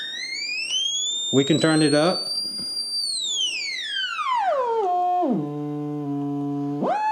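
A sine test tone plays through a speaker during car radio troubleshooting on a Suzuki Forenza. The tone glides high, sweeps steadily down, then holds a steady buzzing pitch, with someone talking briefly over it.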